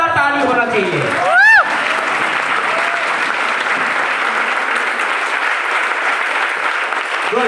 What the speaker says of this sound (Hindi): ताली भी ज्यादा मत मारिए ना